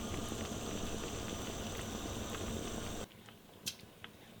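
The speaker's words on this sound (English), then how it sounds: "It's starting to boil." Rhubarb chutney made from red and green rhubarb boils in a pan, a steady dense bubbling hiss that fills the first three seconds, then drops away to quiet with a few faint clicks and pops.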